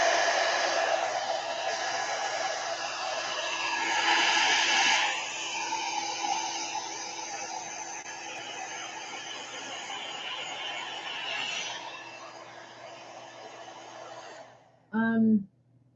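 Hair dryer blowing over wet watercolor paint, a loud continuous whoosh lasting nearly the whole stretch with slight swells, then cutting off, followed by a brief voice near the end.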